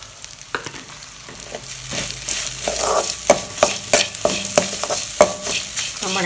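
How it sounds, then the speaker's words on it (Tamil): Ginger garlic paste and grated coconut are sautéed in a pan for idli kurma, giving a soft, steady sizzle broken by repeated sharp scrapes and knocks of a stirring spoon, with no voices. "இஞ்சி பூண்டு அதையும் போட்டு நல்லா வதக்கிட்டேங்க"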